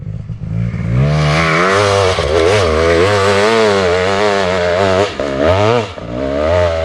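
A Honda CR 500 two-stroke dirt bike revs hard as it climbs a hill, its loud, raspy engine note rising and falling through the gears, close and nearly continuous.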